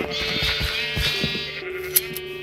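Sheep in a video game give a sustained wavering bleat over soft clicking, close and fairly loud, with a small sharp blip near the end.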